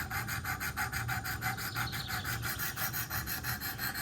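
An Emerson by Kershaw knife blade is sharpened on a Wicked Edge sharpener with coarse 100-grit stones, a steady rhythmic rasping of fast back-and-forth strokes, close and continuous.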